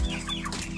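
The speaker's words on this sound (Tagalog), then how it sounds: "Ready to harvest na po itong ating mga manok." Forty-five-day-old broiler chickens, ready for harvest, cluck and murmur together inside a chicken house in a brief, close, busy burst of farm fowl.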